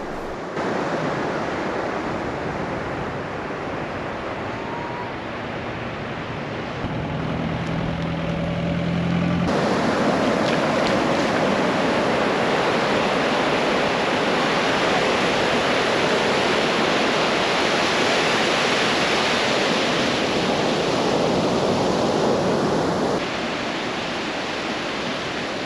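Steady surf on a clean, uncrowded South Goa beach, a continuous broadband wash of breaking waves, loud and close, swelling slightly midway with no voices.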